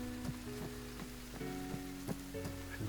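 Rain in the military shooter Arma 3, a steady faint patter of drops on surfaces with soft irregular ticks, continuous and fairly quiet in the background.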